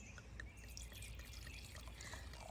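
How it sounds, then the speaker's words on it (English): Pinot Noir red wine is poured into a glass outdoors near hosta plants, a soft, close, continuous trickle lasting a couple of seconds, with faint birds in the background. "let's pour a little here and see what we think"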